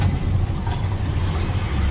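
Farm truck used for hauling corn from a grain cart, a loud, steady low engine rumble heard close up, idling or running continuously with a slight hiss on top and no talking.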